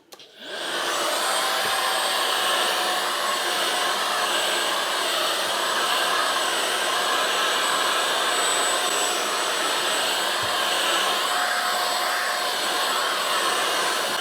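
An Ultenic U16 stick vacuum cleaner fitted with its soft furniture brush runs close and loud, a continuous high motor whine with airflow hiss that starts abruptly and holds steady throughout.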